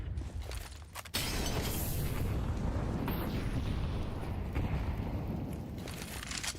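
A grenade bursts in a competitive Counter-Strike match: a sudden loud boom at about one second gives way to a long rolling rumble that fades slowly, with faint game effects around it.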